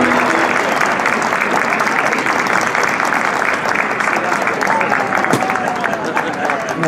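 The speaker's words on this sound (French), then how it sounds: "avec un tonnerre d'applaudissements," Dense, sustained audience applause welcoming a singer onto the stage at a Paris-themed evening concert in Escaldes-Engordany, Andorra, an even roar of many hands clapping at once, loud and steady throughout without pause.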